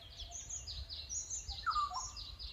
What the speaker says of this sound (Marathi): हे बघा पक्षी ओरडतेत